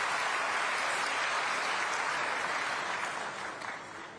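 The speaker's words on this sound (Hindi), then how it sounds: "जोरदार ताली के गड़गड़ाहट से स्वागत करो" A large crowd at a PM Kisan Diwas event in Raipur, Chhattisgarh, claps loudly and continuously to welcome guests. The applause stays dense and even before tapering slightly at the end.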